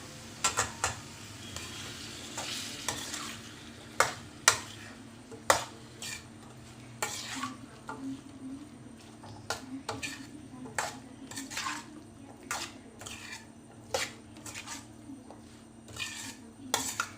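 Cabbage, potato and pea sabzi being stirred in a pan, a series of clinking spatula strikes and scrapes against metal over a soft low sizzle, irregular and close.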